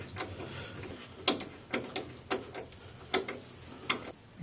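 Thread tap being worked through a bolt hole on front suspension parts, giving a series of sharp metallic clicks and ticks spaced about half a second apart, close and fairly quiet.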